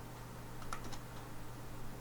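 A short, quiet patter of keys being tapped on a computer keyboard while entering a search, a few quick clicks clustered together over a steady low hum.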